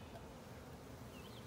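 Honey bees at an opened hive during an inspection, a steady, dense, close buzz that holds level for the whole moment with no talking.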